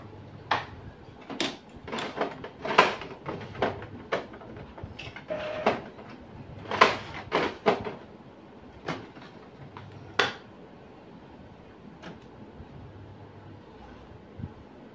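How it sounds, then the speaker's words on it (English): An Epson L3110 inkjet printer powers on, giving a series of sharp mechanical clicks and clacks in irregular bursts, then settling into fainter occasional ticks near the mic. "we can try to power on the printer"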